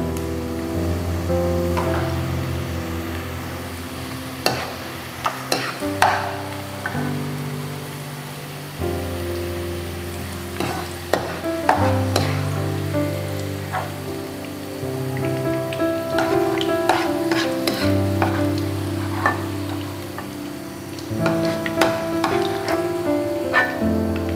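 Sliced onions fry in a pan until lightly browned for a spicy-sour cauliflower dish, giving a steady soft crackling sizzle beneath continuous background music.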